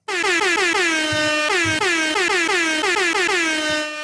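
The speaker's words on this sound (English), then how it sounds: "Where my air horn's at." A loud air horn blares in a rapid repeating pattern of bursts, sustained for several seconds without pause.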